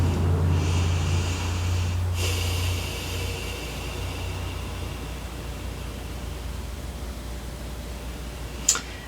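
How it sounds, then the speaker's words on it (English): A deep breath is drawn in as a steady, loud airy rush that lasts about two seconds and then tails off into a quieter exhale. A faint low hum runs underneath, and a brief sharp tick comes near the end. "I'm going to take a deep breath."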